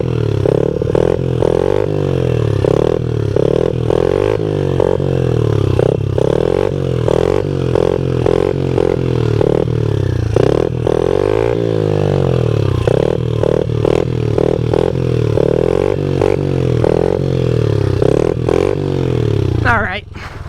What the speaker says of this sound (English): We'll do one more standing circle wheelie